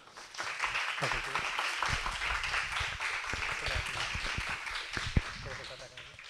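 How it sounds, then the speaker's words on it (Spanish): A small audience at a film-screening talk in Chaco applauds a guest pair's introduction, steady clapping filling the room at moderate loudness with murmured voices and a sharp knock near the end. "Un aplauso, por favor."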